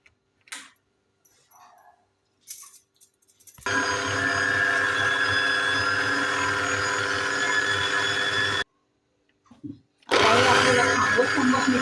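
A mixer grinder whirs loudly and steadily for several seconds as it blends semolina cake batter into a fine paste, then stops and starts again, with a few brief handling knocks in the quiet gaps between runs.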